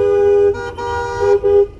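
Car horns honk close by in a few long and short blasts on busy town streets, loud and overlapping briefly.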